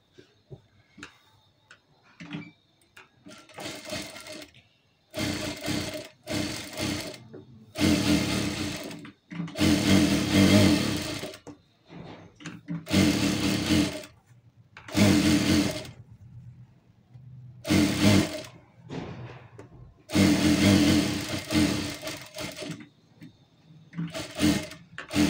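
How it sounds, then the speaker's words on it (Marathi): A sewing machine stitches a topstitch along the edge of a garment neckline, running in repeated loud bursts of steady whirring separated by short pauses, with no talking. "तर आपण कडून टीप मारून घेऊया."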